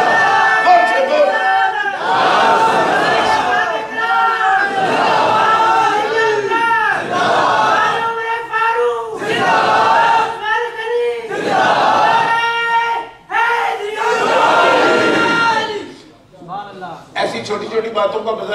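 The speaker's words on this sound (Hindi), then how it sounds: "सब जोर से एक दफा नारा लगाओ, नारा तकबीर, सब जोर से बोलो" A large congregation shouts the Takbir slogan back in loud unison at a religious gathering in Manchester, repeated bursts of massed voices rising and falling across the whole stretch, with a brief lull near the end.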